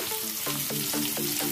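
Medium-sized onion added to a pan of roasted dal and sesame seeds, sizzling steadily, with three or four scraping stirs of a spatula at regular intervals.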